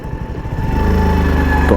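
Suzuki Gixxer SF 150 motorcycle pulling away in second gear, its steady engine note rising loud and close without a break.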